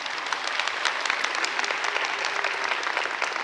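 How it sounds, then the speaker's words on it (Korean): Audience applause at a choral seminar reading session, a bright, steady round of clapping from many hands, close and continuous for several seconds with no speech over it. "선혜원 선생님 다시 한번 박수 주세요."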